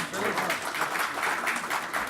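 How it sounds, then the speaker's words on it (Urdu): An audience at an Urdu mushaira in Qatar breaks into steady, dense applause, many hands clapping continuously throughout. "تالیوں کی گڑگڑاہٹ زور سے اس لیے ہونی چاہیے کہ اب آپ کو نجات ملنے والی ہے"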